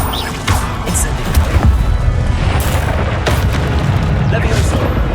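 A fiery Incendio spell cast in Hogwarts Legacy booms out amid dense, continuous battle noise, with sharp bursts at intervals over a constant low rumble and a voice calling out during the action.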